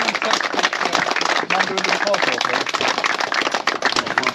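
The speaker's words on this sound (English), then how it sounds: "give Bob a round of applause" A crowd at a Jaguar owners' club day in Yorkshire claps for Bob, a loud, dense and sustained round of close-up applause filling the whole stretch without a break.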